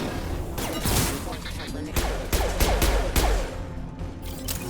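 Gunfire in the Mass Effect 2 video game: bursts of shots and impacts sound loud and close among dense game noise, with a voice talking over the action.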